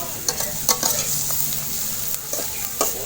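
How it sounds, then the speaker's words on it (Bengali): Onion frying in hot oil, a steady soft sizzle broken by several sharp scrapes and clinks of a spatula stirring in the pan, close up with no talking. "পেঁয়াজটি একটু ভাজি করে নিই।"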